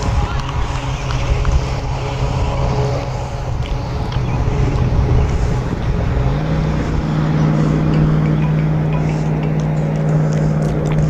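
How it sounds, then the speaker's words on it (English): Trucks rolling along a distant highway near a high school baseball game, heard as a steady low engine drone and road rumble under wind noise, with a deeper hum building in the second half. "Hear them trucks over there on the highway, can't you?"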